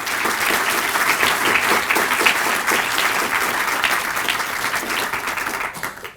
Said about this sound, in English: Please, round of applause for everyone at that school.